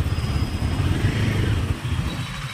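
A Royal Enfield Himalayan 450 motorcycle being ridden, its engine droning steadily and fairly loud, heard close with wind and road noise mixed in.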